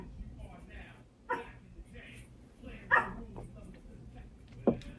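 A dog gives a few separate barks and yips, three sharp bursts spread over several seconds, at moderate distance under a quiet room background with soft talk.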